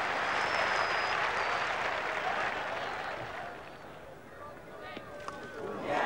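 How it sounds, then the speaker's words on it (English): Cricket spectators at a 1981 Ashes Test applaud a hundred-run partnership, a broad wash of clapping that fades gradually, with a commentator's voice over it. "in the background, the crowd rises for the three-figure partnership"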